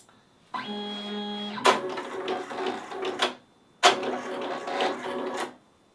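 A Happy Japan HCS3 embroidery machine stitches a design, starting with a steady mechanical whir and then breaking into loud rapid clattering needle strokes that pause briefly before resuming, close by with no talking.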